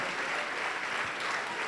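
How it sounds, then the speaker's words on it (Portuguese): A church congregation applauds during a Portuguese-language service, a steady wash of many hands clapping together at moderate loudness, without a break. "Vamos aplaudir mais o Senhor Jesus."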